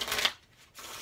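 A new deck of Monarchs playing cards is riffled in one quick, close, crisp burst that fades, followed by a soft rustle.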